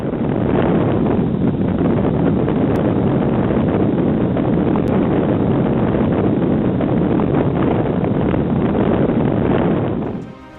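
Strong wind gusts at a reverse waterfall blast the microphone with a loud, continuous roar that holds steady for about ten seconds before cutting away abruptly.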